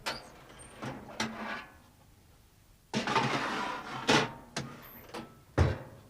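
A creaky object salvaged from the trash gives a few short squeaks and knocks, with quieter gaps between them and a louder stretch of rubbing creaks near the end.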